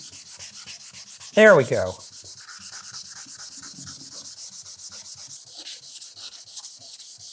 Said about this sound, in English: let's try a bit of vinegar and some 320 grit.